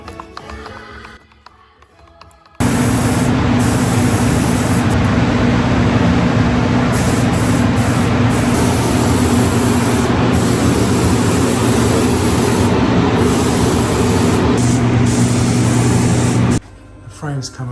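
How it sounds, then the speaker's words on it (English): A 1982 Suzuki RM 250 frame being spray painted black: a loud, steady hiss of the spray gun runs continuously for about fourteen seconds, with faint background sound before and after. "now it's time to spray the black"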